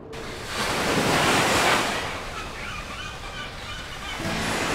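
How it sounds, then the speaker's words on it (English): Ocean waves crash and wash in a harbor scene from the video game Symphony of War, a loud, broad rush that swells and then recedes into steady surf noise, with no talk over it. "On the busy dark waves crash loud."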